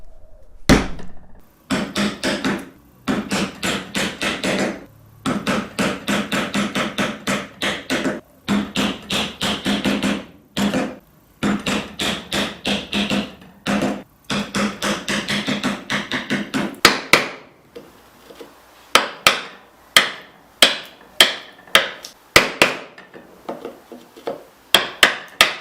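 A chisel is struck repeatedly while cutting a mortise in wood, giving sharp close knocks in quick bursts, denser at first and then spaced into separate louder blows near the end, with no talking.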